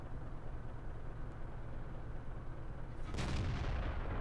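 A tank's main gun fires in World of Tanks over a steady engine rumble, a single loud booming shot near the end of the clip.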